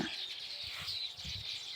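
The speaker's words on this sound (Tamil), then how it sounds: "இந்த அழகான இடத்துல எவ்வளோ சூப்பராக சிட்டுக்குருவி கத்தி கொண்டிருக்கிறது பாருங்கள்" House sparrows chirp in a busy, continuous chatter outdoors in a rural rice-farming area, faint and somewhat distant, with a low murmur underneath.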